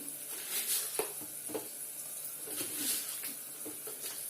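Cucumber and fish curry with chili powder and salt being stirred in a pan, soft repeated scrapes and gentle sizzling close by, with a faint bird cooing in the background.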